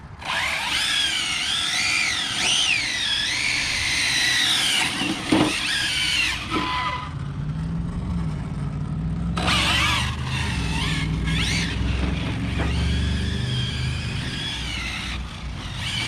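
An ARRMA Infraction RC car drifts, its electric motor whining loudly with rising and falling pitch as it revs through turns, with a brief lull in the middle before the high whine returns.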